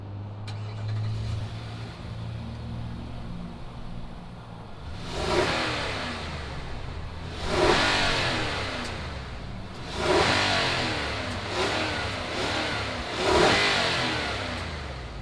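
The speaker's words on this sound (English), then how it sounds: "let's fire up this Armada and see what it sounds like" A 2020 Nissan Armada Platinum V8 engine starts and idles with a low rumble, then is revved four times in spaced, rising bursts that each fall back to idle.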